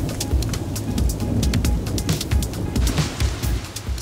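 Steady thunderstorm rain pours down in a dense, hissing wash, with a low rumble of distant thunder underneath, loud and continuous throughout.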